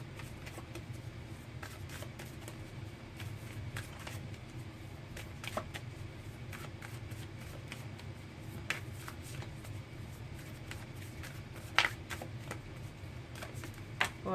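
Oracle cards being shuffled by hand, a continuous close riffling and shuffling with sharp flicks and taps, with no talking.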